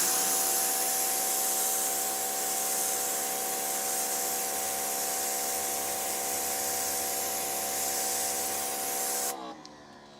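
Greenworks 3000 PSI electric pressure washer spraying through a turbo nozzle, a loud steady hissing blast with a tonal motor whine that cuts off sharply near the end.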